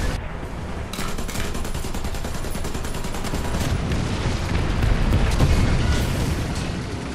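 Gunfire in the War Thunder tank game around a Char B1 bis Renault: dense, rapid bursts of shots and booming cannon rounds roll on continuously, loud and close, with no speech.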